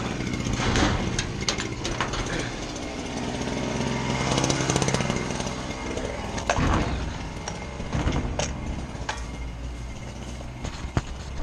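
A string trimmer trims grass by a side gate during lawn care work, buzzing with a loud, continuous rasp close by for the whole stretch and rising and dipping slightly as it cuts.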